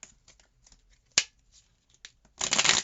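A few soft tarot card taps and slides, then a quick close-up burst of riffling tarot cards near the end, with no talking.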